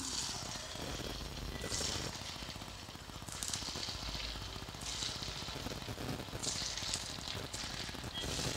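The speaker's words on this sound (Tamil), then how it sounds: "இப்போ எண்ணெய் வந்து சூடாயிடுச்சு இதை நம்ம எண்ணெயில் பொறிச்சு எடுத்துடலாம்" Small rava (semolina) balls frying in hot oil, giving a steady, close crackling sizzle that runs throughout with brief louder bursts of spattering.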